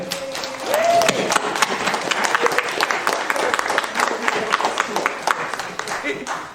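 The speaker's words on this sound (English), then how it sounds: "we're going to just give you a round of applause" Round of applause from an audience at a fire resource fair panel for Fire Safe Council members, steady scattered clapping filling the room with voices murmuring underneath.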